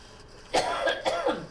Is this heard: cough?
yes